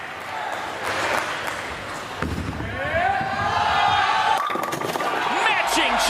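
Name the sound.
bowling strike, pins knocked down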